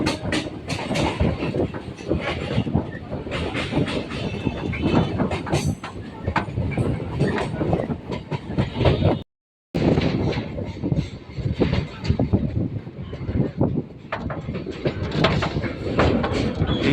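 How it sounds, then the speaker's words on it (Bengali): A Sealdah–Dankuni local train pulls out of Balighat station, with continuous loud rumbling and rattling wheels on the track, briefly cut by a short silence midway. "ট্রেন এখন বালিঘাট স্টেশন ছেড়ে বেরিয়ে যাচ্ছে"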